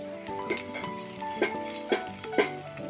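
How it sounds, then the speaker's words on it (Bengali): Pumpkin flower fritters fry in a pan of oil, with a constant sizzle under a few sharp clinks and scrapes of a utensil. Faint tonal music plays in the background. "আর এইভাবে করে করে আমি সব ভেজে নিচ্ছি।"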